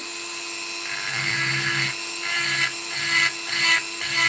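A carbide cutter grinding metal on a custom e-bike hub whines at a high pitch, rising and falling in short repeated passes, close and fairly loud with no talk.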